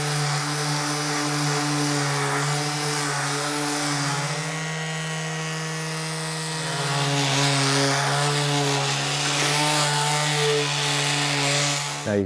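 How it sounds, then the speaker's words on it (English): An electric sander smooths the edges of wooden door trim with a loud, steady whine and buzz that shifts slightly in pitch as it works, running close and continuously with no talking. "So I can be more careful, I'll use this sander"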